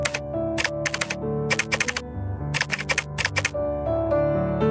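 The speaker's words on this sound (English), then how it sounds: "he keeps typing O's and ones" Bursts of rapid keystrokes from a computer keyboard come in uneven clusters, loud and close, over steady background music in a PC game.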